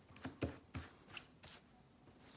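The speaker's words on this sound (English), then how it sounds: "I'm just going to give this a really good shuffle." Quick riffling bursts of tarot cards being shuffled, several brisk flicks in a row at close range, fairly soft.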